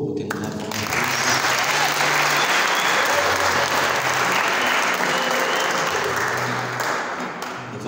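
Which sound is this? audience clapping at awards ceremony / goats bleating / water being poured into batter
audience clapping at awards ceremony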